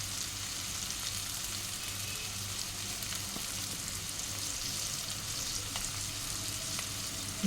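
Spices with tomato, green chili, ginger and cumin powder sizzle and fry steadily in a pan, a continuous close crackle with faint stirring and no talk.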